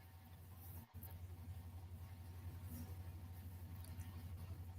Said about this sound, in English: Salt truck.